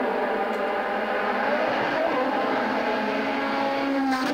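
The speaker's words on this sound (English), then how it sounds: "You hear that engine? I love how that sounds." A WRC rally car at Rally Finland 2021 roars loudly and steadily at close range, its engine note holding high and sustained throughout with no speech.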